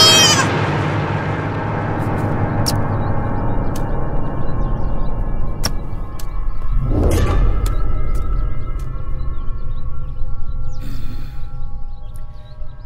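Goat bleating in a Bhojpuri movie scene, a long wavering bleat at the start followed later by another drawn-out bleat over a steady background drone, with sharp ticking accents scattered throughout.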